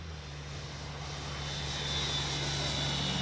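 An FMS 1400mm F4U Corsair RC warbird with landing flaps down makes a low, slow pass, a faint electric whine that steadily grows louder as it approaches.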